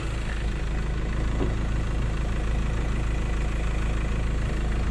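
The 2.2-litre engine of a 2012 Mazda BT-50 Pro Hi-Racer pickup idles steadily and close by, a low, even diesel rumble with a light rhythmic clatter and no talking.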